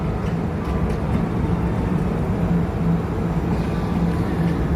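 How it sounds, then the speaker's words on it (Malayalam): A Dubai Metro train passes in Dubai Marina, a steady, loud, broad rumble and whoosh that holds for several seconds without a break. "അതാ പോണത് ദുബായ് മെട്രോ"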